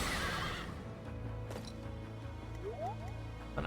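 Horses whinny in the Fire Emblem Three Houses video game, a loud neigh opening the clip, followed by clip-clop hooves, thuds and a rising squeal over game music.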